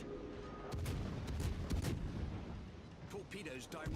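Warship guns in a naval battle video game fire rapid salvos, a dense run of loud booming blasts with rumbling tails, louder in the middle and tapering off.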